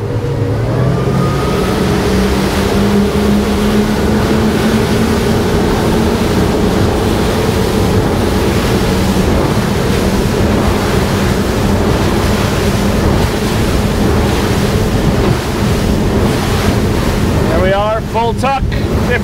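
A Regulator 34 boat running at speed on Rev 4 19 props, a loud continuous outboard engine drone mixed with rushing water, spray and heavy wind buffeting, with a faint voice near the end.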